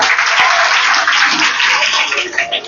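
Applause at a student merit felicitation ceremony, a dense, steady wash of many hands clapping, loud and continuous throughout.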